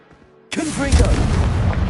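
A Confringo fire spell cast in Hogwarts Legacy bursts in with a sudden loud blast, then a roaring, crackling explosion that rumbles on for over a second. A brief stretch of quiet game ambience comes before it.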